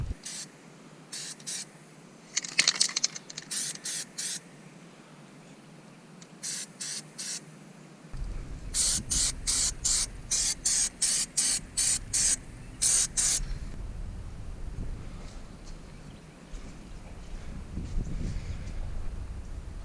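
An aerosol can sprays black paint onto a rusted rear axle in short hissing bursts, some quick and clipped, others in a rapid string of puffs, close by over a faint background rumble.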